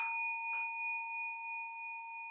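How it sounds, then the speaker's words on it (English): A metal singing bowl struck with a mallet gives a sharp tap and then a pure, sustained ringing tone with slow pulsing beats, decaying gently with no talk. "And to get the bowl to vibrate, we're going to have to hit it."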